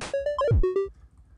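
Pico-8 chiptune tracker notes using the arpeggio effect 6, rapid bright square-wave steps cycling through pitches, with a quick descending sweep in the middle, then a short ringing tail, close and with no voices.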